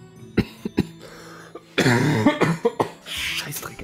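A man coughs several times in sharp, uneven bursts, mixed with some throat clearing, close to the microphone and with no speech.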